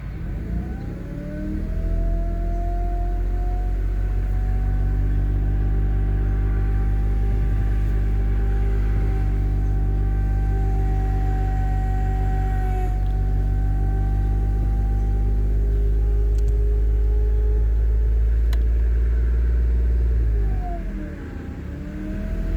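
A 2008 Pontiac G6 3.5 engine idles steadily with a quieter power steering pump, a continuous close rumble with a faint whine that holds throughout and drops away at the very end.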